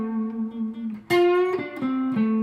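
Electric guitar plays a classic blues lick, a string of clear sustained notes with bends and slides moving down the scale, close and alone.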